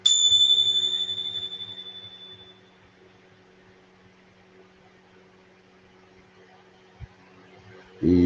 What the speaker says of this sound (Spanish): Lleva tu atención al sonido de la campana hasta que se termine.